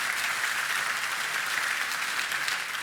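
Steady, continuous clapping from an audience fills the space evenly, a close and even wash of applause with no talking over it.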